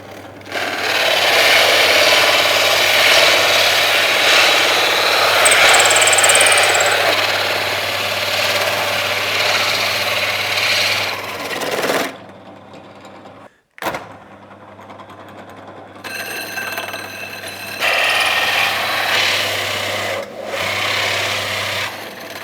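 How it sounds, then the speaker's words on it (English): A loud, steady drill with a 68mm bit whines and grinds straight through a wooden router table fence for about twelve seconds, then stops briefly before running again with a rougher, buzzing tone. "I'm just going to drill straight through my fences."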